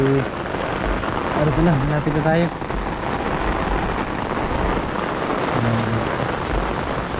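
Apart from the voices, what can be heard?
heavy rain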